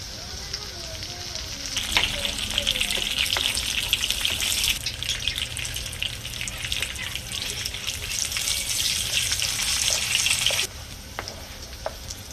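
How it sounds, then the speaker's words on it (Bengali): Yardlong bean fries crackle and sizzle steadily in hot frying oil, a loud, dense bubbling hiss that runs continuously with a few faint clinks before it drops away near the end. "একইভাবে বাকিগুলো ভেজে নেব।"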